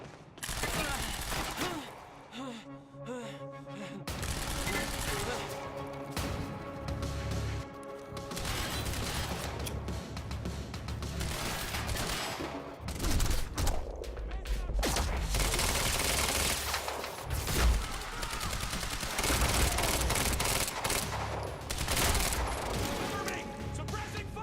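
Sustained rapid gunfire and explosions in the video game Quantum Break, dense bursts of automatic fire and crashes filling the whole stretch, loud and continuous.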